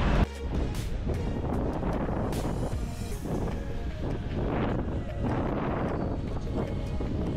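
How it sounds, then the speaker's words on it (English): Strong, gusty wind at Coco Beach, Dar es Salaam, buffets the microphone with a constant low roar and rushing surges throughout. "it's really windy"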